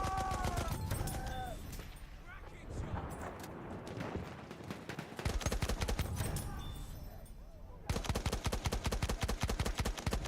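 Rapid, dense bursts of gunfire from the video game Battlefield 1, crackling almost continuously and loudly throughout, with brief heavier volleys standing out.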